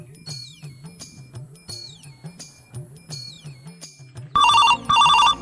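A telephone rings in repeated bursts, an electronic ring pattern, followed by two loud, harsher ringtone blasts near the end; no one speaks.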